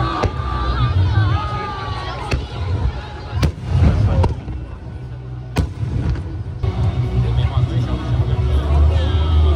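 Fireworks burst at the Penghu fireworks festival, with repeated booms and crackles over a loud, steady crowd murmur and people talking nearby.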